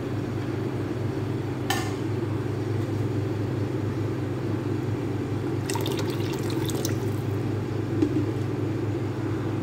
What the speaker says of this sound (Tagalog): kumukulo na yung aking luto